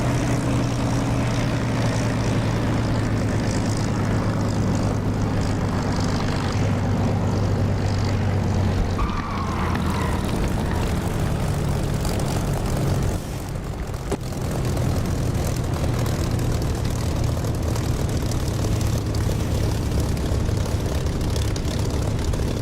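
A Spitfire's piston engine and propeller drone steadily in the DCS flight simulator as the aircraft lands on a runway, a loud, continuous roar that dips briefly and swells again, with no talk over it.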